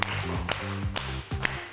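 Young children in an early-years dance exercise clap their hands in a steady rhythm: sharp claps about every half second over a sustained musical backing.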